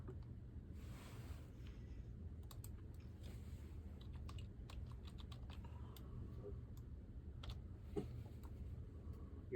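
Keystrokes on a computer keyboard during a CAD drafting lesson, scattered sharp clicks in irregular bursts over a faint steady background hum, quiet and close.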